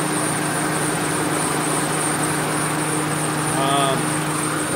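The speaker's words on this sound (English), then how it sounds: "Alright, engine running." Engine of a 2002 Mercury Grand Marquis running steadily at idle, a constant even hum with a faint high whine throughout.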